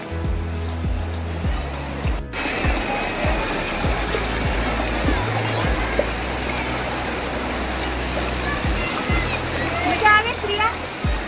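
River water flowing steadily near a Chamunda Mata temple in Dharamshala, Himachal Pradesh, a continuous close rushing wash with splashes, while people talk over it.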